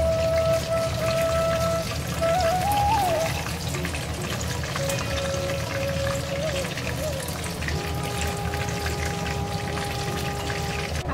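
Katla fish fry in hot oil in a home kitchen, a steady dense sizzle and crackle running throughout, close and fairly loud, with faint beeping tones over it.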